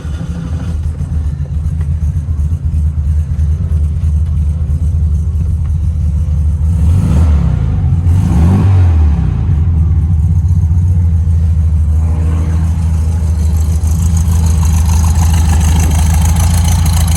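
A 1970 Volkswagen Beetle engine runs steadily and close by, its low rumble holding at idle with a brief rise in revs partway through before settling back to a constant drone.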